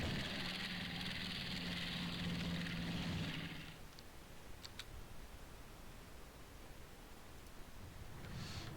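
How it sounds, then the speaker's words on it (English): Planes in the naval strategy game Rule the Waves 2 approaching enemy ships, their engines a droning roar that cuts off after three seconds and leaves a fainter rushing wash with a few faint ticks. "And now we have planes approaching enemy ships."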